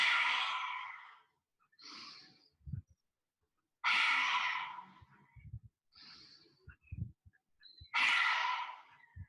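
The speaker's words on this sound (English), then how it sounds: "lion's breath is just where you really reach the chest forward, and as you exhale, you stick your tongue out as far as it will go" Three forceful open-mouthed lion's breath exhalations in a yoga class, each a loud breathy whoosh spaced a few seconds apart, with quieter inhales and soft rustles between them.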